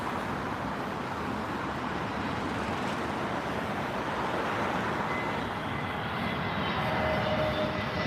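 An Airbus A320neo airliner roars steadily at London Heathrow. The broad jet rush holds at a constant level and is heard at a distance.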